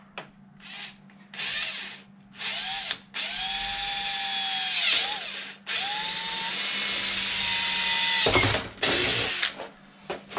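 A power drill bores into the plastic windshield of an Arrma Mojave RC car, with several whining bursts of varying length and pitch separated by short pauses, close and loud with no talking.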